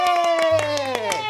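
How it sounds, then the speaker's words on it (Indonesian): Several people clap their hands together in a steady rhythm of about seven quick claps, heard under a loud voice talking and calling out. "Bareng sama aku juga tepuk tangan soalnya."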